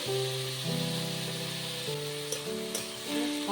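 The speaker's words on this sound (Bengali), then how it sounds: "এবার এই তেলের মধ্যে দিয়ে দেবো পেঁয়াজ কুচি" Chopped onions hit the hot oil left from frying katla fish for a wedding-style kalia, giving a steady, close, loud sizzle that hisses continuously over a sustained tonal backing, with no talking.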